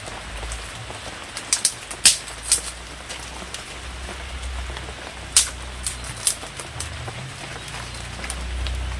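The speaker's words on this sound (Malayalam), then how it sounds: "വെയിലുണ്ട്, പക്ഷെ ഇടയ്ക്ക് ഒരു മഴ" Rain falls during a sunny spell in a rural Kerala yard: a steady close patter on surfaces with scattered sharper drop hits, and no voices.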